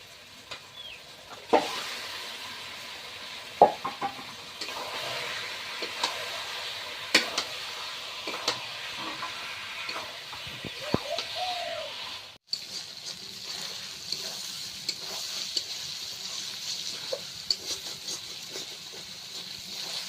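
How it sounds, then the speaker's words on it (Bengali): Chicken meat frying in hot oil with spice paste sizzles steadily and fairly faintly, broken by scattered scraping stirs and clinks of a utensil against the pan, with no talking. "তেল মশলাটা হয়ে গিয়েছে আর মাংসটা দিয়ে দিচ্ছি"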